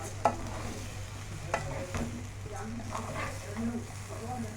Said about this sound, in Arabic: شوحي بقى كل الرز مع الحاجات الحلوه دي